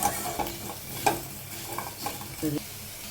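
Fish fries in oil in a pan, a steady nearby sizzle broken by several scraping stirs and light utensil knocks at irregular intervals, with no speech.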